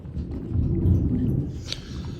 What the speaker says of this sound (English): Oh, another loud lightning coming in.